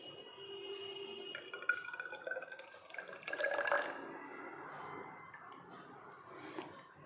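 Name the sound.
object being immersed in water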